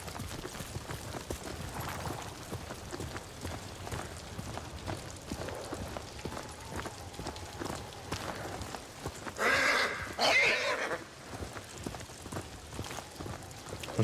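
Horse whinnying in the Ghost of Tsushima video game, a breathy neigh bursting out over a constant bed of rain-like noise and hoofbeats, with a softer one earlier.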